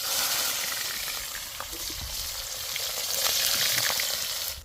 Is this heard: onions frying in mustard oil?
yes